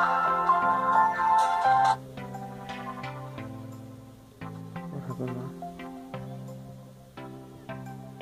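An incoming call rings on a ZTE Blade Buzz V815W Android phone, a repeating melodic electronic ringtone with stepped tones that plays loudly, pauses briefly and resumes.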